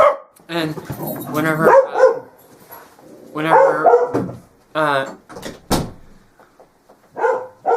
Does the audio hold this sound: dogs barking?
yes